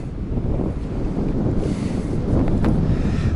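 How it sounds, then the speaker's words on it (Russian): Strong wind buffets the microphone in a steady, loud roar with gusts, at a fishing camp near Astrakhan where tents and a trailer stand in the open. "Но ветер, конечно, просто не дает"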